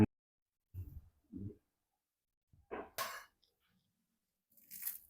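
Several short crunchy bites into a crispy keema noodle sandwich made with beef, two low bursts followed by sharper crackling ones, close and fairly quiet with silence between.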